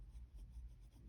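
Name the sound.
Pilot Elite fountain pen writing on paper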